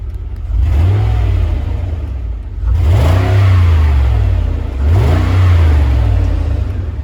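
A Mercedes G500 W463 engine with a new muffler revs up three times in neutral or park with a deep, throaty exhaust note, each rev rising and falling back toward idle; loud and close, no talking.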